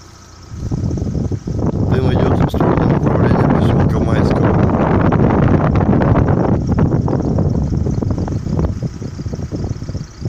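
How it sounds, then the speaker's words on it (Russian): Strong, roaring storm wind at a burning landfill near Sovetskaya Gavan buffets the microphone continuously, a loud gusty rumble with no letup through the whole stretch. "Вот штормовой ветер."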